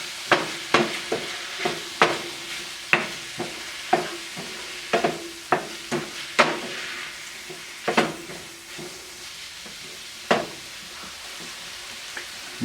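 Sofritas stirred in a sizzling pan as chipotle sauce goes in, with a steady close fry hiss broken by a dozen or so sharp spoon-and-pan clacks spaced irregularly throughout.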